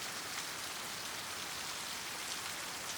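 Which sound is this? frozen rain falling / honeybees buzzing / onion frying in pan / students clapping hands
frozen rain falling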